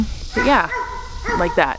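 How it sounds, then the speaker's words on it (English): Dogs at a dog training facility bark and yip in short bursts in the background while a person talks over them. "If you hear dogs barking in the background during some of the clips,"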